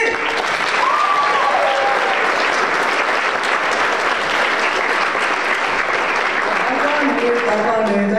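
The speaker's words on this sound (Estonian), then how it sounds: "veel üks aplaus" Sustained audience applause fills a hall at the Estonian event Püüne 2025, dense and loud throughout, with a few faint voices and whistles rising over the clapping near the start and end.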